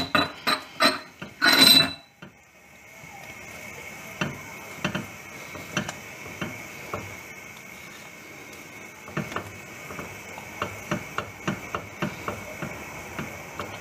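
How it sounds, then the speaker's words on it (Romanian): Starch being mixed into homemade condensed milk in a bowl: a burst of loud clinks and scraping at the start, then quieter, spaced taps of a utensil against the bowl, with no talk. "Și amestecăm."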